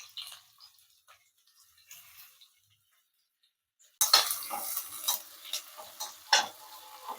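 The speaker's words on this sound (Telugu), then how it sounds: "బాగానే వేడెక్కింది, ఉల్లిపాయలు చక్కగా వేగుతాయి." Thinly sliced half-moon onions hit a hot kadai: after a few faint taps and near silence, a sudden bright sizzle bursts in and keeps crackling with scattered clinks of stirring, close and fairly loud.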